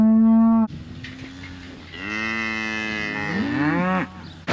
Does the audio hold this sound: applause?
no